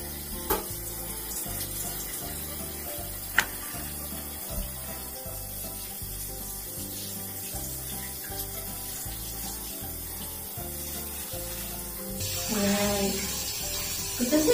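Warm tap water runs steadily while a Pomeranian dog is bathed, a continuous close splashing stream under a low rhythmic hum, with a brief louder gush near the end.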